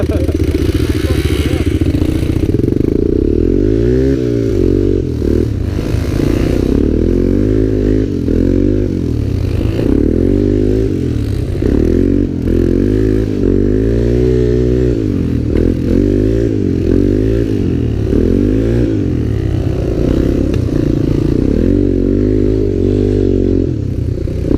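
A 250SX three-wheeler engine pushing through deep snow, loud and close with repeated revving surges and throttle swells, a voice talking over the machine at times.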